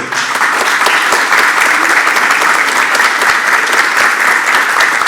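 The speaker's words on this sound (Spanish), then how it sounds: "a quien damos la bienvenida con un caluroso aplauso" Warm, sustained applause from a seminar audience welcoming a Brazilian researcher and academic, a dense steady wash of many hands clapping at even loudness throughout, with no voices rising above it.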